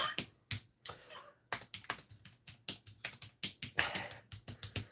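Someone types on a computer keyboard, tapping quick bursts of keys with short pauses in between. The clicks are soft, close and irregular, with no voices.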